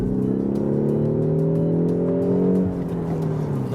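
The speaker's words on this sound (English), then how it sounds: "Now you hear that there's a special sound generator here for the interior." Volkswagen Golf GTI, Seat Leon Cupra or Peugeot 308 hot hatch engine revving through an interior sound generator, a rising droning tone building steadily then easing off, loud and close inside the cabin.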